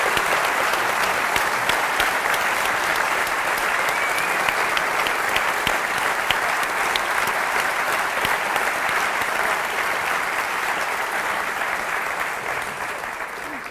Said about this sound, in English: Let's thank Rob, David, Sam, and Jessie very much with a clap,